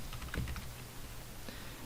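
Short burst of keystrokes on a computer keyboard entering a password during Gmail account setup, a quick cluster of close, crisp taps followed by quieter room tone, with no talking.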